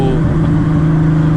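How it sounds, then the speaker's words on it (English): Scion FR-S with a straight pipe exhaust, loud and close, holding a steady engine drone with rough crackling texture, its pops and backfires not clearly separable in the brief stretch. "Little pops, backfires."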